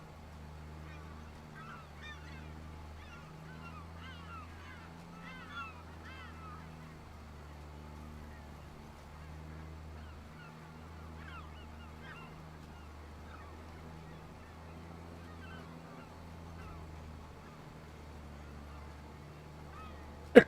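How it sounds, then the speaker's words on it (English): Seagulls in Farming Simulator 25 give repeated squawking calls over a steady low tractor engine drone, scattered bursts rising and falling throughout, moderately loud against the continuous machinery hum. "we got the seagulls chasing us"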